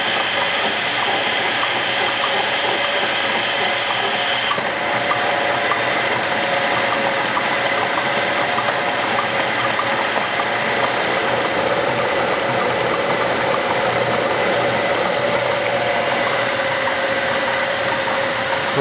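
Car engine running steadily while warmed to operating temperature during a test of an A-type overdrive, a continuous loud close-up drone with even mechanical rumble and no pauses.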